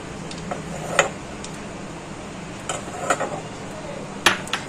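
A gas stove burner switched on beneath a kadai set up for frying bitter gourd mustard pakoras: a few sharp, scattered clicks and light metallic knocks over a low, steady background hiss, close by and with no speech.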